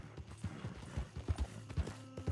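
Horse hooves clip-clop steadily in Red Dead Redemption 2, a close, rhythmic run of hoofbeats from a horse with a few scattered sharper strikes, all without any talking.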